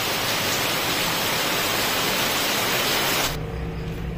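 Steady rain falls in a dense, even hiss that fills the whole clip, then drops to a quieter, duller wash near the end. No one speaks.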